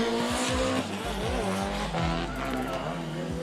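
A drift car at a D1GP Malaysia round on a wet track skids with loud, continuous tire squeal, its engine revving up and down in repeated surges as it slides close by.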